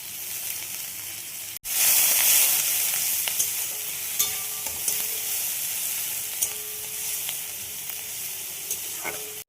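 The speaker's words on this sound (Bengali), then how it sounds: "আগে আমি এই পেঁয়াজ ভেজে নেব।" Onions and garlic hit hot oil in a pan with a sudden loud sizzle that settles into a steady frying hiss, broken by a few small clinks of stirring.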